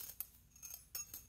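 Antique jewelry pieces hung as a wind chime clink together in a few quiet, bright metallic taps, spaced irregularly and heard alone.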